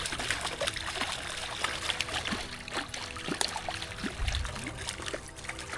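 River water flows and trickles steadily beside a high bank while someone is out fishing, a continuous close splashing babble with no one speaking.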